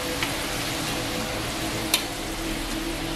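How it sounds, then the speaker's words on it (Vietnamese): Potato strips frying for french fries in a home kitchen, a steady dense sizzle of hot oil running throughout with a couple of brief sharp crackles near the pan. "Đây là mình chiên khoai tây chiên này các bạn."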